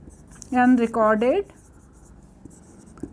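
Pen scratches on paper as accounting entries are written by hand, brief faint strokes following a short burst of someone speaking, then quiet writing sounds with small taps.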